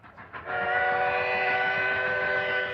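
A steam train whistle sounds a long, sustained, slightly wavering tone that starts after a brief lead-in and continues steadily, heard from a moderate distance.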